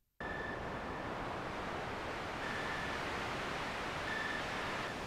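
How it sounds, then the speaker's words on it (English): A filtered synth noise preset with the high end rolled off by a low-pass filter makes a steady, even hiss like rain. It starts suddenly and runs on unbroken at a fairly quiet level, with faint tonal glints now and then. "Without the effect, it sounds like rain"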